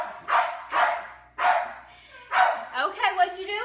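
A dog barks in close, loud bursts, four sharp woofs spaced irregularly, the last one trailing into a higher, whining yelp.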